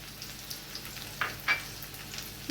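Pieces of elephant foot yam fry in oil in a pan, giving a low steady sizzle with a couple of brief crackling bursts, close and unaccompanied by voices.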